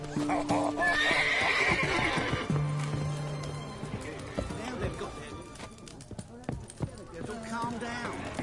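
Roach the horse in The Witcher 3 gives a loud, close whinny, then hooves pound in a galloping rhythm that slows, with voices talking over parts of it.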